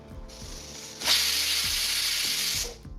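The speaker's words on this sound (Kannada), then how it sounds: "ಸ್ವಲ್ಪ ಸ್ಟೀಮ್ ಬಂದ ಮೇಲೆ ವೆಯ್ಟನ್ನು ಇಡ್ತಾ ಇದ್ದೀನಿ" A pressure cooker making green pulao lets out a loud, steady hiss of steam for about a second and a half, with faint metallic clicking before and after.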